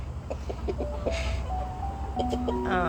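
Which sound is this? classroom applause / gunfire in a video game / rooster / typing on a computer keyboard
rooster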